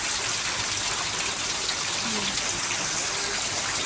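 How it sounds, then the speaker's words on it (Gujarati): Heavy rain pours down in a dense, unbroken roar of falling water on a dairy farm, steady throughout with a faint voice briefly underneath. "એકદમ ધોધમાર વરસાદ ચાલુ છે."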